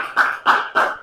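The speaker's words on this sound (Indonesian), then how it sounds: "Oke, tepuk tangan dong teman-temannya." Classmates in a classroom clapping their hands, three short bursts of applause in quick rhythm, close and moderately loud.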